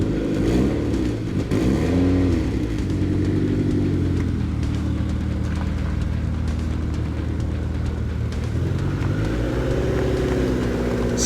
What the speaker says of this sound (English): Next step is getting them on the road. Yep, we're gonna take it for a drive.